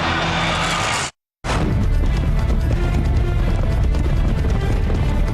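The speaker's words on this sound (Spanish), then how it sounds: "Gran ruido de cascos en Australia" Hooves pound loud and steady as trotting horses race on an Australian track, a dense continuous drumming that drops out for a moment before resuming.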